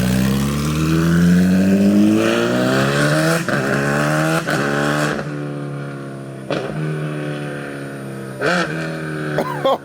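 An MV Agusta Brutale 1000 motorcycle fitted with a loud aftermarket exhaust revs hard and close, its pitch climbing and falling through several sharp throttle blips, with no talk over it.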